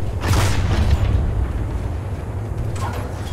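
Artillery-like explosion in the game PlanetSide 2 on Auraxis: a deep, loud boom rumbles and rolls on for a few seconds, with a second, fainter blast near the end.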